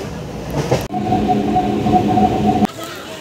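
Loud rumbling train noise with a steady droning hum, heard close up from inside a train in the Kolkata area, cutting off abruptly near the end.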